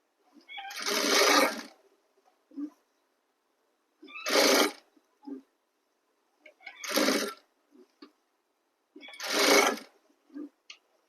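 A sewing machine stitches the neckline of a suit in four bursts of whirring, each a second or so long, separated by near silence and small clicks of the machine being stopped and adjusted.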